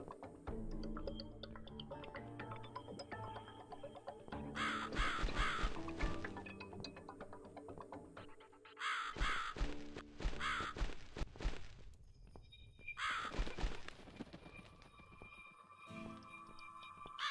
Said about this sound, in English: So is this crow gonna pick out the key or something, or am I supposed to follow it?